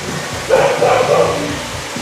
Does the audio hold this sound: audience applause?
no